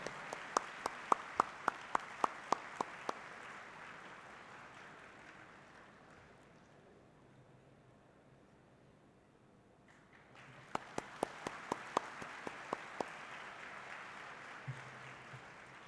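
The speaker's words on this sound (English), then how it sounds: "Huge round of applause." An audience at a formal chartered accountants' branch event applauds a memento and bouquet presentation. Two bursts of dense clapping, a few sharp claps standing out, are separated by a quieter lull in the middle.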